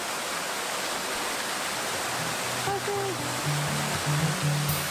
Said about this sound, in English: Yeah, this waterfall.